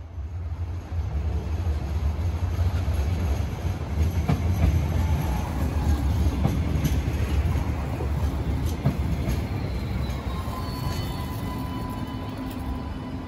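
An Alstom Citadis tram on Sydney's L1 Dulwich Hill light rail line rumbles past near Wentworth Park, steady rolling noise with wheel clatter and faint squeals, building slightly then easing away.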